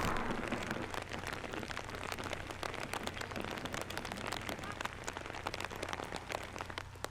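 Steady rain falls throughout a disc golf round at a tournament, a dense, even patter of drops spread over the whole stretch, with no voices standing out above it.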